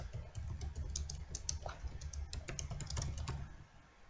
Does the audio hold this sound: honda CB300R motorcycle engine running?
no